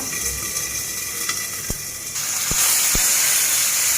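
Tomato sizzling in oil in a pan over low heat, a steady hiss and spatter that grows louder partway through, with a few sharp clinks close by.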